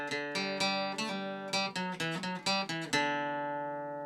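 Guitar picking the opening phrase of the Irish rebel song God Save Ireland, a string of clear plucked notes in a steady rhythm, close and fairly loud, with the last note left ringing out alone.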